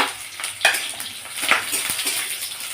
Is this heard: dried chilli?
yes